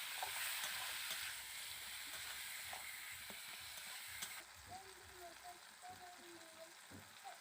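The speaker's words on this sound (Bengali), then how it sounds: "এবার দিয়ে দেব টমেটো কুচুরা সব একসাথে নেড়ে নেব" Chopped tomato stirred with turmeric and salt in an oily pan, producing a soft sizzle and scraping stir strokes that fade after a few seconds into quieter background with faint voices.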